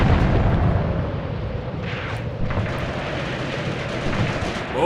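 Pack guns fire in the World War II tank game Tank Warfare: Tunisia 1943, a loud, continuous rumble of booming artillery with heavy low-end blasts rolling over each other.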